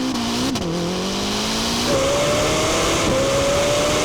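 A Lamborghini Temerario and a Ferrari SF90 launch side by side in a drag race, engines droning loud and close as the pitch climbs steadily, with a brief gearshift dip and a rising whine.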